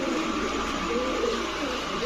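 A male Mili Golla pigeon coos softly and steadily against a dense, noisy background hum, the low call close but partly buried.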